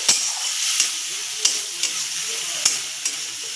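Oil and hilsa fish sizzle steadily in a pan, a close, bright frying hiss broken by several sharp clicks of stirring and utensil taps against the pan.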